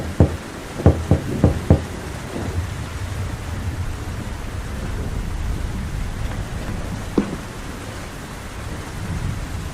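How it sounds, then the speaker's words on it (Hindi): A cartoon bird knocks on the door of a nest in a tree: a quick run of about five sharp, close raps at the start, then quiet outdoor ambience with one more lone tap later. "बल्लू घोंसले का दरवाजा खटखटाता है।"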